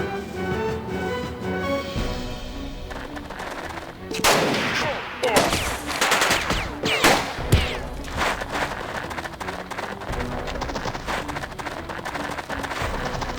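Gunfire in the tactical video game Jagged Alliance 2, with sharp bursts of shots clustered in the middle over a constant background of game music and ambience.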